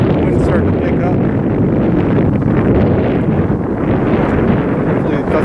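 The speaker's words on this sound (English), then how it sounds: "Wind's starting to pick up." Gusty wind on an island peninsula buffets the microphone with a continuous roaring rush that swells and eases slightly without stopping.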